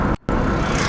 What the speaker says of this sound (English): I'm in a taxi with my friend Ronald.